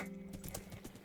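Hooves of a horse clip-clopping in a video game, a quick run of hollow steps over about a second, close and steady over soft background game ambience.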